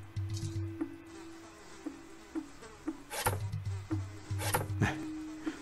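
A fly in The Office Quest game buzzes in repeated short, close bursts with small gaps between them, mixed with a few soft clicks and knocks.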